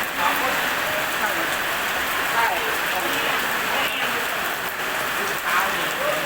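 Steady rain pours down during a summer storm at a rural Thai housewarming merit-making event, a constant dense hiss on surfaces that lasts throughout, with faint talk under it.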